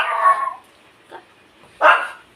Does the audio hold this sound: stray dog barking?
yes